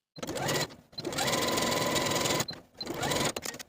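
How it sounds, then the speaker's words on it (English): A home sewing machine runs in close bursts while edge stitching garment cuffs, a fast steady mechanical whirr that starts, pauses briefly and resumes, loud and alone. "Now we're going to take both cuffs to the sewing machine and edge stitch close to those sewn edges"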